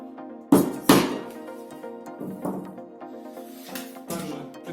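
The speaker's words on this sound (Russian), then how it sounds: "Забиваю." Small nails being hammered into plywood while building a honeycomb-style plywood lamp: a few sharp close knocks, two hard strikes early and lighter taps after, with faint ringing tails.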